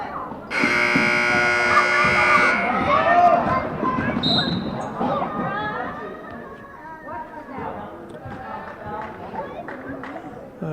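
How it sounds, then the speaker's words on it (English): A loud buzzer blares for about two seconds during a girls' high school basketball game in a gym, over sneaker squeaks, ball bounces and crowd chatter, with talking heard throughout. "Shot clock buzzer went off, but the Bobcats already had control"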